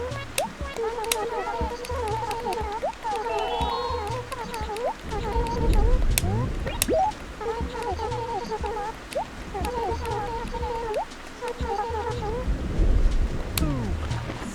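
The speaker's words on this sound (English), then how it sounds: "Yep, it raining all day is something that could happen." Rain falls steadily in the video game Animal Crossing, with rumbles of thunder swelling twice, while cheerful game chimes and chattering voices sound over the soft patter.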